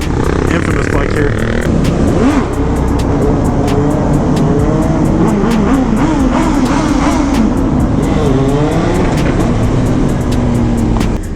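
A Kawasaki Z900 motorcycle engine runs loudly and close, its rumble rising and falling with revs, while a voice talks over it throughout.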